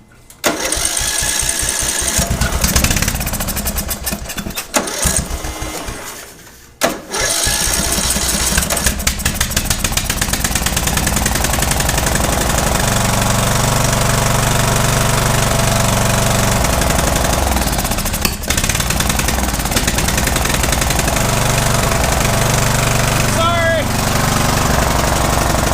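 Small carburetor engine starting up and then running at a steady, loud, rough idle close by, with a sputtering patch early on before settling into a continuous drone.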